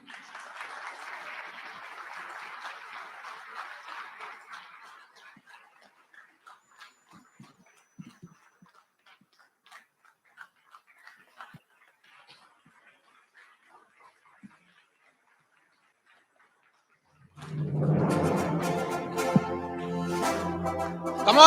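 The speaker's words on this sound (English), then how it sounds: "round of applause again" Audience applause at a conference panel, a brief burst of clapping fading out, then sparse faint taps and near silence before a louder, denser wash of clapping and crowd noise swells at the end.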